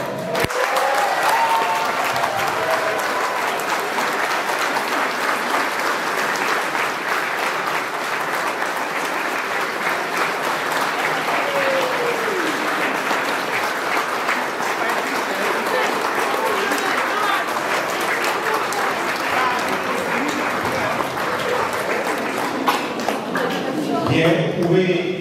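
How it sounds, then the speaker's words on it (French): A church congregation at a baptism applauds and cheers loudly and continuously, a dense steady wash of clapping filling the whole stretch with voices mixed in. "Alors on les acclame très fort."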